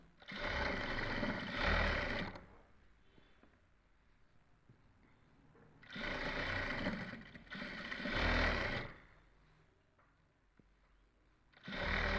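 A sewing machine runs lace onto a salwar in three separate stitching bursts of rapid buzzing, with near-silent pauses and faint handling clicks between the runs.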